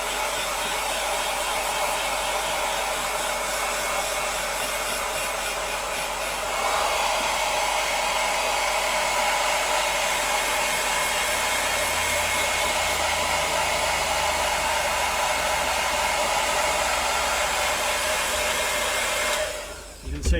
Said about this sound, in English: Obviously now with the temperature dropping, I've got to use the hairdryer a bit